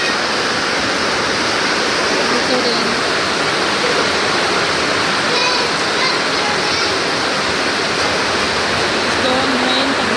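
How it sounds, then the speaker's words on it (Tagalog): Water drips heavily onto a road in a steady, dense patter like rain runoff, continuous and close, with a voice talking briefly over it. "Ayan, tulo yan dyan sa daan."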